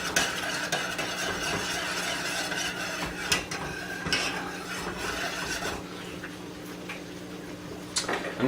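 A utensil stirs heavy cream into a lemon butter sauce in a pan, producing soft scraping and occasional light clinks against the pan, quiet and close, with a faint steady hum underneath.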